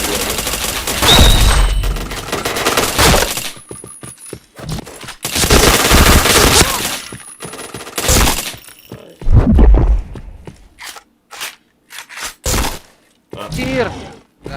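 Gunfire in a shooter video game, sharp bursts of rapid shots and cracks that come and go across the clip, with someone talking excitedly over and between the volleys.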